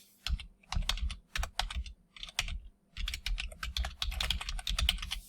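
Rapid clicking of a computer keyboard as a search is typed, bursts of keystrokes in uneven rhythm with short pauses, close and clear with no talk.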